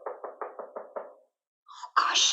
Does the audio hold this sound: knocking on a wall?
yes